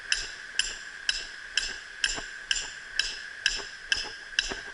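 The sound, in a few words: hatchet hammering a stake into the ground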